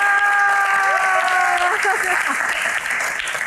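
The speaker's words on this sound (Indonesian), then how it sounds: "Tepuk tangan lebih meriah lagi teman-teman." Applause and some cheering from a live Q&A audience at a pop music event, continuous clapping under sustained musical tones, with voices mixed in.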